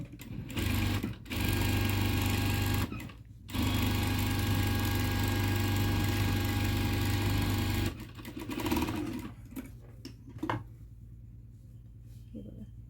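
Sewing machine stitching a puffy blouse sleeve into its lining, running loud and steady in two long bursts with brief pauses between, then quieter, choppier stitching near the end.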